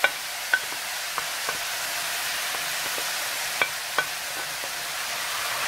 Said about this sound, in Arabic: البنات نحرك هذا الزيت